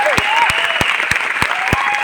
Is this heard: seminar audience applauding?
yes